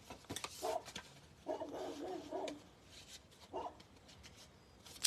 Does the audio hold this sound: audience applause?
no